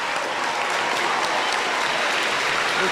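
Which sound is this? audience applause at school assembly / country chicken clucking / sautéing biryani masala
audience applause at school assembly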